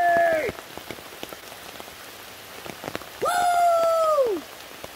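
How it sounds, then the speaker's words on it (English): Rain falls on a campsite in the woods, a steady close patter of separate drops ticking on surfaces, joined by two brief high tonal sweeps. "I'm camping in the rain!"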